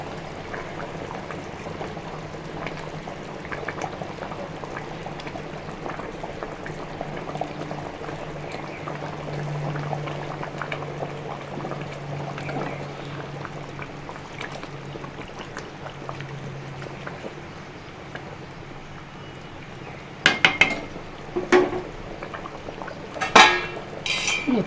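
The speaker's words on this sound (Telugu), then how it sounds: "మంచిగా ఉడుకుతుందండి." Chicken biryani simmering in a covered pot, a steady low bubbling hum running throughout, with a few sharp clinks of a lid or utensil near the end.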